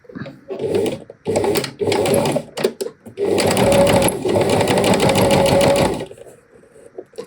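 Sewing machine stitching fabric for a slow-stitched hydrangea flower project, running in several short bursts and then one long steady whirring run, close and loud, with no talk.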